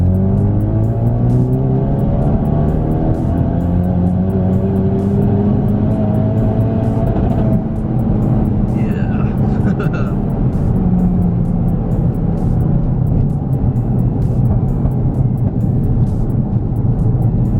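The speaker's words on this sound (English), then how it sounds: "So in second gear currently, so I will go to third gear, log, and floor." A Ford Focus RS accelerating hard at full throttle in third gear, its engine note climbing steadily and loudly for many seconds, with a brief dip at a shift and a whine riding on top.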